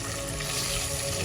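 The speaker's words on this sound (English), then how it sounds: "you need to know when it's frying" Chicken frying in hot oil, Jamaican-style, gives a steady, dense sizzle and crackle that stays close and even throughout, with no talking over it.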